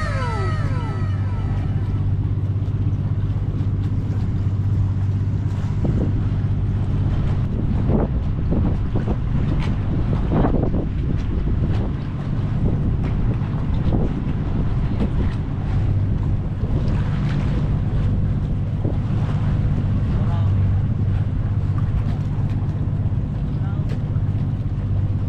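Fishing vessel under way at sea during a sea trial, steady engine and hull rumble mixed with heavy wind buffeting the microphone and washing water, with occasional voices.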